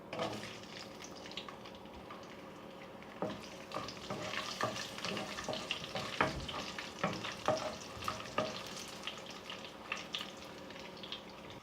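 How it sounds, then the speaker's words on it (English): Fenugreek seeds, cumin seeds, whole pepper and garlic fry in hot oil, giving a soft, continuous sizzle with scattered crackles and pops, joined by stirring and some faint clatter. "So once the oil is hot, I'm adding little fenugreek seeds, cumin seeds, whole pepper,"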